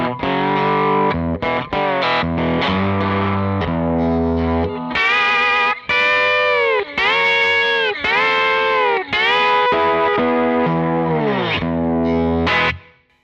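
Distorted slide guitar through a Kemper Profiler with a short natural room reverb, sustained gliding notes and phrases played loud and up front with a brief ambient tail, no talking.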